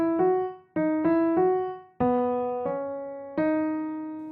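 A short melody of six struck piano-like notes in a major pentascale, beginning on the third degree, each note sounding cleanly and decaying before the next, unevenly spaced and with no talking.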